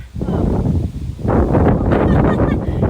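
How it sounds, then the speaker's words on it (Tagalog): Steady wind rushes and buffets the microphone in loud gusts, swelling stronger after a brief lull, with faint rustling underneath. "Nakita nyo ang hangin. Hinahangin tayo, guys."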